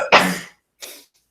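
A person sneezes twice during an online class, a strong close burst followed by a shorter, softer second one, with silence between and after.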